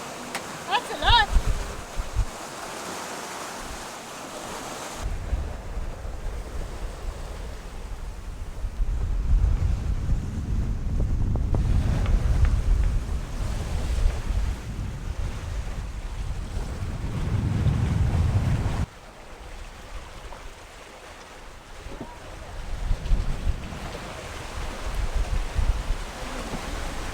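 Strong wind of around 29 knots buffets the microphone aboard a sailboat, gusting in loud rumbling surges with water rushing along the hull and a brief quieter lull partway through.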